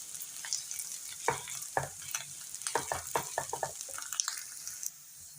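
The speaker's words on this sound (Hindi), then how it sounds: "अब हम आलू को इसके साथ अच्छे तरीके से मिक्स कर लेंगे" Boiled mashed potatoes are stirred into frying ginger and garlic for samosa filling, giving soft scraping and thudding strokes of a spoon against the pan over a faint background sizzle, with no talking.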